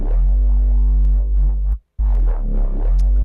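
A growling sound effect from a sample pack, heard loud and close as a low, harmonic snarl that runs for almost two seconds, breaks off briefly, then growls again.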